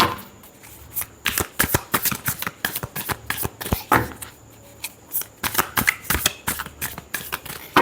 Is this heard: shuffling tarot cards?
yes